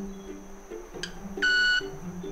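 A brief tick, then a short, bright, buzzing whistle from a club-winged manakin's wings that rings for about a third of a second over a quiet outdoor background.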